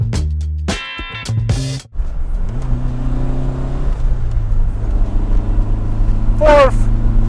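A Lancia Fulvia Coupe 1600 HF engine revs up hard and climbs in pitch, then holds a steady roar, with a brief high tonal squeal near the end.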